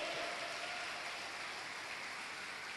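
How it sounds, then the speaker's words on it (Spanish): A church congregation claps together in a dense, steady burst of applause that holds evenly for a few seconds without any voices. "Dale un aplauso bien fuerte al Rey"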